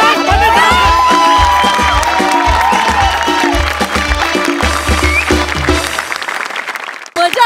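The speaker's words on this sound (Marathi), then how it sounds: "जोरदार टाळ्या सगळ्यांसाठी." A live audience at a Marathi comedy show claps and cheers loudly and steadily, with a voice over the crowd and music playing underneath. The noise drops off abruptly near the end.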